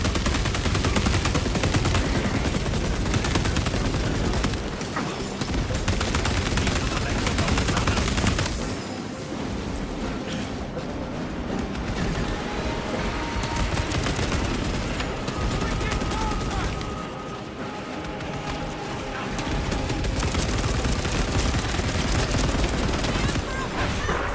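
Sustained heavy bolter fire in Warhammer 40,000: Space Marine 2, a dense, loud, relentless roar of rapid shots with only brief dips in intensity over the whole stretch.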